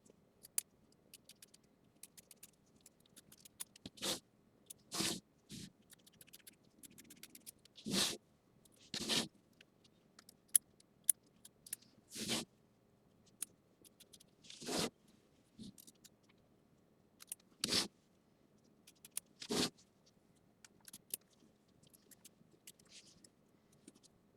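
Small scissors trimming fabric and thread on a quilt block, quiet crisp snips at irregular intervals with faint rustling between, close-up in a hushed room, no voices.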